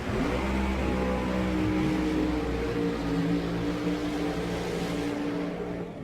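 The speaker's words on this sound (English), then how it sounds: "The Elite Motorsports Modern Racing Pro Charge machine to be coming alive to the right-hand side." A Pro Modified drag race car's engine roars loud and continuous at close range as it launches down the drag strip, a steady heavy droning rumble that holds its power throughout.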